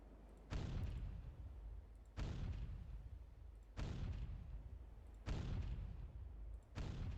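Heavy naval gun salvos from warship turrets in the NavalArt video game, five loud booming blasts spaced about one and a half seconds apart, each with a long rumbling tail, no talk.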